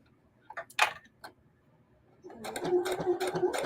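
A sewing machine stitches a narrow raw-edge appliqué seam, under an eighth of an inch, on a portrait art quilt of African fabrics and batiks. A few short clicks come first, then a steady close whirring run through the second half.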